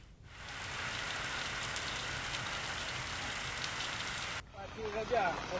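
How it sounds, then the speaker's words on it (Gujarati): Rain falls in light and heavy showers with wind in a village; a steady, close hiss of rain on surfaces holds for about four seconds before cutting to quieter, different background sounds. "હળવા અને ભારે ઝાપટા સ્વરૂપે પવન સાથે વરસાદ વરસી રહ્યો છે"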